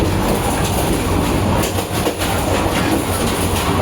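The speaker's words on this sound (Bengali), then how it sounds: "মোহনগঞ্জ এক্সপ্রেস ময়মনসিং থেকে ঢাকা যাইতে দেখেন" Mohanganj Express train passing on the Dhaka–Mymensingh rail section, loud and close, a steady roar of wagons with rhythmic clickety-clack of wheels over rail joints and faint squeal, no talk.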